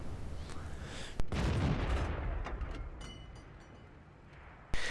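A tank cannon shot in World of Tanks booms once early on, followed by a long rumbling decay, with a second sharp blast cut off right at the end.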